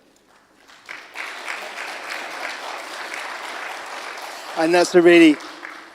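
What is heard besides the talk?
meeting audience applause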